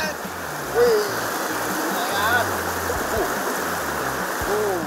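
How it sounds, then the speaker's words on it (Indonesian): A strong river current rushes over rocks in Aceh, where people are fishing. It makes a steady, loud, broadband roar that runs the whole time, with a few faint tonal chirps on top. "derasnya arus air serta bebatuan di sungai membuat Cepi Anwar harus cukup hati-hati agar ikan tidak terlepas."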